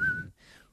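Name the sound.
person whistling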